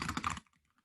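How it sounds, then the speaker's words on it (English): Quick typing on a computer keyboard, a short cluster of soft close key clicks that stops abruptly into near silence. "I'm just going to type it out first before I talk."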